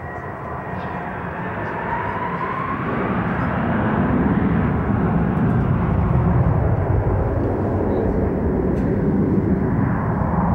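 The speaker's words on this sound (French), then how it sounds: "Les avions décollent un à un." Airplanes taking off one by one over Bamako or Ouagadougou, a broad rising jet roar that builds from moderate to loud and holds steady, heard at a middle distance with no talk.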